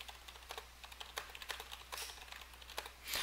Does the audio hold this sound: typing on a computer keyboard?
yes